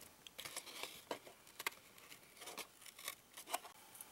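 Scissors cutting small figure pieces out of a tissue box: quiet, close snips and soft papery clicks in an irregular series, with no talking.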